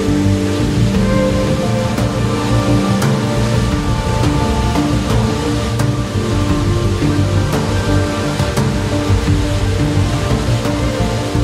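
The Kundalila waterfall, where the Kaomba River plunges 80 metres down cliffs in the wilderness, gives a steady, dense roar of falling water that is loud and unbroken throughout.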